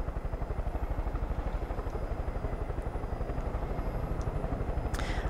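Helicopter flying in the video game Far Cry 5, a loud, close, continuous rotor thump with rapid, even blade chop throughout and no talking.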